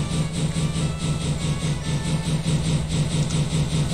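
Train from the Immersive Railroading mod in Minecraft running steadily, a continuous mechanical rumble with a rhythmic low chugging pulse throughout, moderately loud with no talk over it.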